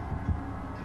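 The killer's heartbeat in the Dead by Daylight video game: a low, muffled thump pulsing once or twice, faint and droning under a quiet game ambience.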